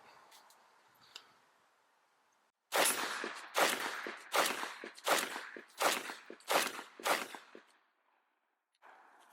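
Seven loud 12 gauge shotgun blasts from a Black Aces Tactical S4 semi-automatic firing full power buckshot, spaced about a second apart in a quick steady string, with quiet outdoor lulls before and after.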